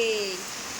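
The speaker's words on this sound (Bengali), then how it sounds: "দেখ কি বৃষ্টি হচ্ছে বাইরে" Rain falling outside during a downpour, a steady soft hiss of drops on surfaces heard from indoors for a brief moment, with a faint tonal hum fading in the background.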